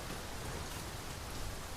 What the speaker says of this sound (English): why is it raining exactly in this little area?